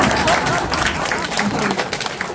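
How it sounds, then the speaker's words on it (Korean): An audience at a lecture applauds, a brisk patter of many hands clapping that loosens and thins toward the end, with some murmuring mixed in. "네, 박수."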